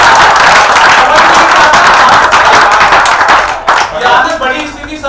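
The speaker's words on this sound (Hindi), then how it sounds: "एक एक व्यक्ति की तालियां चाहिए" Loud, dense applause from a large audience at a Hindi comedy or speech event, a continuous wash of clapping that thins slightly toward the end with a few scattered claps standing out.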